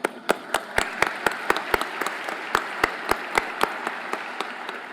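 Audience applause at a conference plenary session, a steady wash of many hands clapping with a few sharp, close individual claps standing out in an irregular rhythm, no talking.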